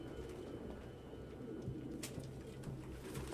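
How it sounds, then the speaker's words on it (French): Several pigeons coo softly and continuously in a room crowded with birds in the video game Detroit: Become Human, low murmuring calls repeating under faint ambient noise. "Aucun humain ne pourrait vivre avec autant de pigeons."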